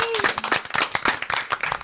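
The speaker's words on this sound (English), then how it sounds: "So we applaud you. We applaud you." Pageant audience members clap in quick, uneven bursts over a couple of seconds, close and fairly loud, with a brief voice and tonal sound at the start.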